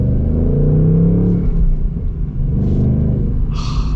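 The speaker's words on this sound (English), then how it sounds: "full throttle, or you can just partial throttle, feel the torque, listen to the V8" The V8 of a 2025 Ford Mustang 60th Anniversary Edition rumbles under partial throttle, a deep steady drone heard from inside the car that rises slightly, with no voices.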